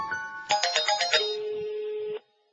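A phone ringtone plays as a short run of bright pulsed rings, then settles into one sustained tone before cutting off abruptly, fairly loud and with no talking.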